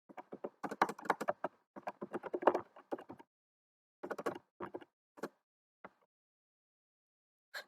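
Quiet computer keyboard typing comes in quick bursts of clicks with short pauses, then a few isolated key taps trail off toward the end.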